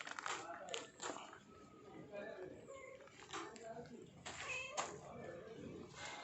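A hungry cat waiting for biscuits meows repeatedly in short, insistent cries, close by and fairly quiet, with a person talking softly in between.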